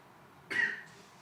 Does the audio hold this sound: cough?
yes